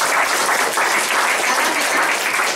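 A congregation at a church gathering claps together in a brief, steady burst of applause, dense and even from start to finish.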